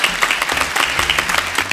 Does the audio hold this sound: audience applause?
yes